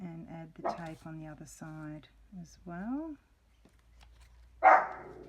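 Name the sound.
dogs barking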